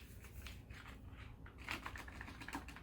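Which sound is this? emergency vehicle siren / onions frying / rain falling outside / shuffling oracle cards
shuffling oracle cards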